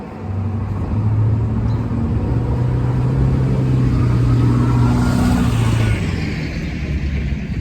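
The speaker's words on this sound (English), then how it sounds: "That truck is so loud, it's vehemently loud. Vehemently rumbling down the street." A loud truck rumbles down a cold street, its deep engine drone steady and close for several seconds, rising slightly and then easing as it passes, with no talk over it.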